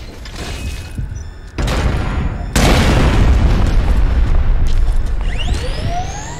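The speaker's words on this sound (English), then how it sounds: "Get out of there before it blows up." A big explosion booms in Metal Gear Solid V: The Phantom Pain, a vehicle going up in a loud sustained blast that follows earlier thumps, then a long rumbling roar with whistling debris trailing off near the end.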